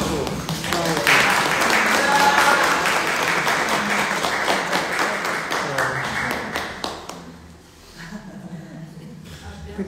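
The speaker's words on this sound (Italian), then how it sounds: "Facciamo un applauso." Audience applause at a church Lectio Divina gathering, a dense burst of clapping from a crowd that fades out after several seconds into scattered claps, with voices talking over it.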